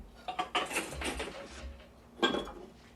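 A frying pan is handled on a kitchen stove, with a few close metallic clanks and scrapes of cookware sounding in short bursts, then a louder clatter near the end, with no talking.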